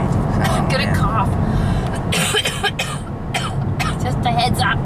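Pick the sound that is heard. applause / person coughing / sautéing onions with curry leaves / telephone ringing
person coughing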